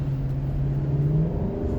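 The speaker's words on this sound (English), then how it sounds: "you can tell by the engine it's a high output" A Lexus LC 500 with a high-output engine pulls forward under throttle, its smooth, steady hum rising slightly in pitch, heard from inside the cabin without talking.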